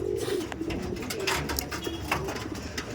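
Male pigeons from a tournament racing flock coo in a low, steady murmur close by, with faint background chatter and rustling throughout.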